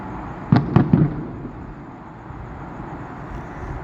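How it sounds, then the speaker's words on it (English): Fireworks display at SeaWorld: three quick sharp bangs in a row, heard from a distance over steady outdoor ambient noise. "There's some new high-tech fireworks this year that they didn't have before."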